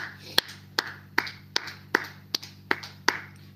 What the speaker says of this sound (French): Acclamons, acclamons.